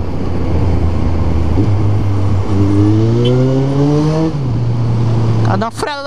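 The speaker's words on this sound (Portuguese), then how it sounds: "Essa moto é muito forte" Motorcycle engine revving close by, a loud droning note that climbs steadily in pitch, drops back, then settles to a lower drone over continuous road noise.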